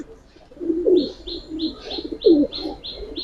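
Giribaz pigeons coo in a low, rolling rhythm, several throaty calls close by, with small bird chirps repeating in the background.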